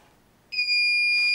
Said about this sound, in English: When you hear the beep, just release it.